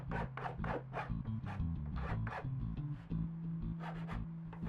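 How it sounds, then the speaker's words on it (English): A hand file rasps over a wooden sign being smoothed and distressed, a run of quick, close scraping strokes in an uneven rhythm with no talk. "came back with a file and kind of smoothed it and weathered it"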